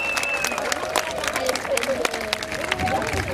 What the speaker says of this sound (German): Applaus, Jubel, Freude einhalten.